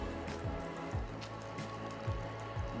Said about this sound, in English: And a tad bit of water.